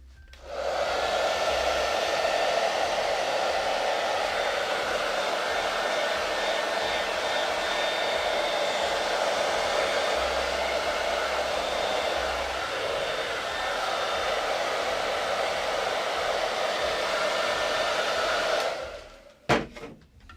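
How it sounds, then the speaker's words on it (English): A hair dryer blows with a steady, loud whir for most of the clip, then clicks off near the end with a brief rustle. "Hair dryer for a little bit."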